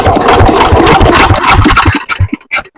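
An old Kirloskar engine starts and runs with a loud, fast chugging beat, then sputters into uneven bursts and gaps as it falters near the end.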